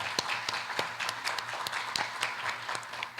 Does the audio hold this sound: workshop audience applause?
yes